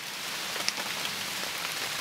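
Steady rain falls on a group of friends outdoors, a dense, even patter with a few sharper drops standing out, close and constant throughout, with no talking.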